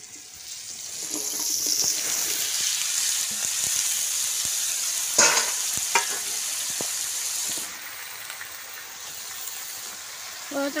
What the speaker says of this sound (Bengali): এখন সব সবজি দিয়ে আমি ভেজে নিচ্ছি।